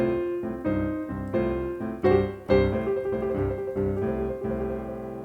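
A boogie-woogie blues riff on piano, with the left hand playing in C position, rolls through a steady repeating bass pattern under chords. Several accented attacks stand out, and it sounds close and moderately loud with no voices.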